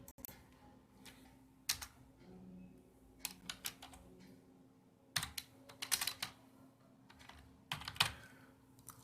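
Computer keyboard keys pressed in short scattered bursts for shortcuts, quiet and close, separate clicks and quick clusters of taps over a faint background hum.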